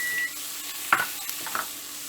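Beef with onion, ginger and garlic frying in a pan for a steak in gravy, a brief low sizzle with a couple of sharp stirring knocks, no talk.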